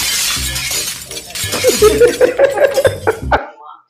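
Glass shatters into a loud, bright cascade of breaking shards and tinkling fragments, close and prominent, with voices heard around it.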